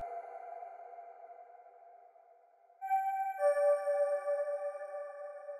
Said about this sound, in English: I end up settling for this innovation key sound